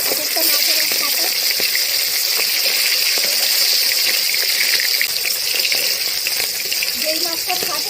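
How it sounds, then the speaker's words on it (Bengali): Fish pieces fry in hot oil, giving a loud, continuous close-up sizzle and spatter that hisses steadily throughout with no talking. "তেল গরম হয়ে গেছে, এবার আমি একটা একটা করে মাছ দিয়ে দেবো"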